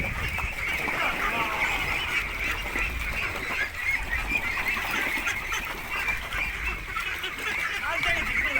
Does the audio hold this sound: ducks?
yes